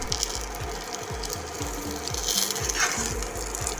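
Fish wrapped in banana leaf fries in a little oil in a pan, giving a steady close sizzle with a rapid repeating low ticking pulse running underneath, no talking.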